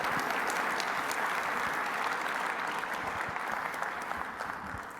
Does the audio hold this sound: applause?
yes